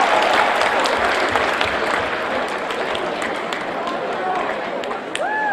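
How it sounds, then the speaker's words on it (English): A seminar audience applauds with a dense, steady wash of clapping that holds at an even level and fades slightly toward the end. "give yourselves a round of applause and take a seat."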